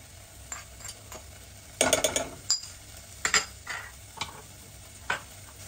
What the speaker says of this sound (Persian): سیرم اضافه کردم و دارم تفتشون میدم.